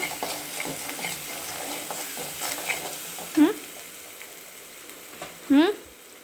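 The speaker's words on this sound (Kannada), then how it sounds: "ಸ್ವಲ್ಪ ಅರಿಶಿನ ಹಾಕ್ಕೊಂಡು ಚೆನ್ನಾಗಿ ಫ್ರೈ ಮಾಡ್ಕೊಳ್ಳಿ." Egg rice with turmeric frying in a pan, a quiet steady sizzle with scraping stirs and two sharp, rising metallic scrapes of a spatula on the pan.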